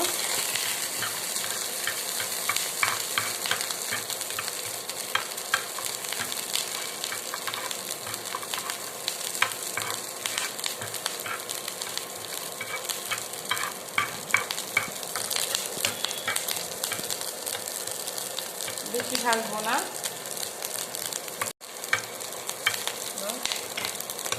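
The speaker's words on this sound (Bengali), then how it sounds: "রসুনটা হালকা ভাজা দিব" Garlic frying lightly in mustard oil: a steady, close crackling sizzle runs throughout, broken by frequent scrapes and clicks of a stirring spoon, with no talk.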